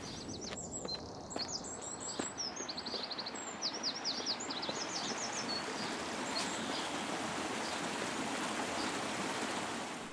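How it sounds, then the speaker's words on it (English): Layered waterfall water in a video game demo, a continuous rushing, splashing roar, with bright chirping birdsong over it in the first few seconds. "make the waterfall sounds change according to the distance to player parameter"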